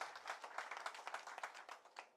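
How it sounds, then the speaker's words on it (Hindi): Scattered hand clapping from a small group welcoming new members at a BJP state office membership event for teachers, faint and somewhat distant, with individual claps audible throughout. "उनका भी तालियां बजाकर स्वागत करें"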